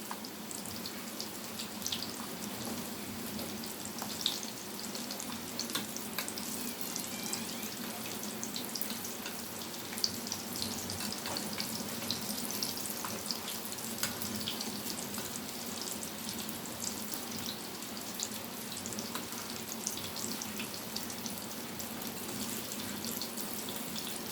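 Chicken tikki cutlets fry in a pan with a continuous, close crackling sizzle that holds steady throughout, with scattered sharper pops and no voices.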